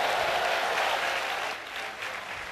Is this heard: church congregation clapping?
yes